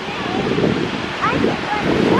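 Winter sea waves surge and break on a beach, a steady loud wash of surf mixed with wind buffeting the microphone.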